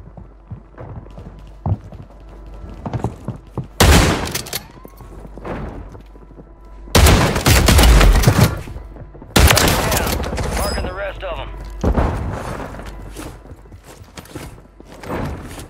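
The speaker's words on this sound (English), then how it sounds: "Are they shooting at you still?" Gunfire in a Call of Duty-style Resurgence duos match, bursts of rapid automatic shots and single cracks arriving in clusters between quieter stretches of footsteps and movement, some close and loud, others more distant.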